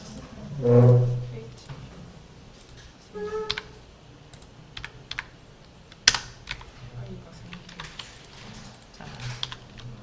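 Computer keyboard keys tapped in scattered, irregular clicks and short clusters, close and moderately quiet, with a brief voice-like hum near the start and low room noise between keystrokes.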